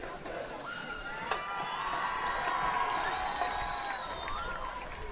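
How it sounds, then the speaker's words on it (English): A high school football crowd at Wichita Heights versus Wichita South cheers along with the band, a sustained wash of voices with shouts and whoops rising above the noise at a distance. "The band kind of leads the cheer on this one."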